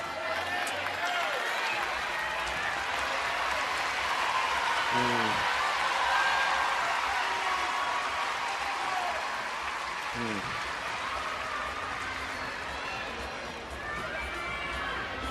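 Family members, a husband and kids, cheer a gymnast at a national championship competition, with applause and crowd noise continuing throughout amid arena chatter and voices.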